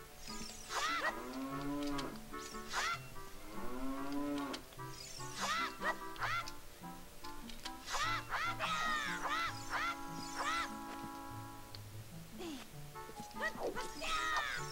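Cows at Lon Lon Ranch in the video game Zelda Ocarina of Time moo repeatedly over the game's ranch music, several loud, drawn-out calls spread across the stretch with no talking.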